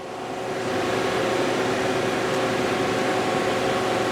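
Lathe spindle with a 10-inch 3-jaw chuck running steadily at 2,000 RPM, a quiet, even machine hum with a low tonal whine and no talk.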